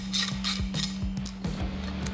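A ratchet fitted with a 3/16 Allen socket clicks in quick, close, regular bursts while backing out the floorboard bolts on a Harley bagger, over a low steady hum.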